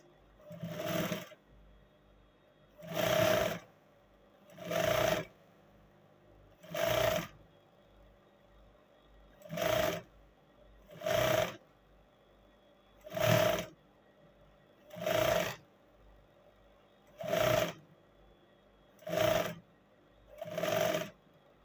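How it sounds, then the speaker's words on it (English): A sewing machine stitches a notched collar onto a bubu dress in about ten evenly spaced bursts of rapid mechanical whirring, each lasting roughly a second, with brief quiet gaps between them and no voices. "I will start sewing it to the other end."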